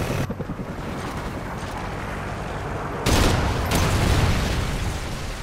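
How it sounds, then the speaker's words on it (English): In Call of Duty Ghosts, a Trinity rocket strike hits a multiplayer Domination match on the Stonehaven map: a few seconds of faint, pulsing background gunfire, then a sudden loud blast and a sustained roaring barrage of explosions that slowly fades. "Trinity rocket inbound."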